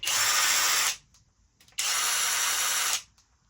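A SKIL cordless drill with low and high speed modes whirs in two bursts of about a second each, separated by a short silence. The high motor whine is loud and close.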